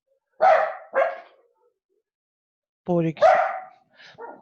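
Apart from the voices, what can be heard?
dog barking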